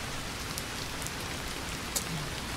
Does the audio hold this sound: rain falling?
yes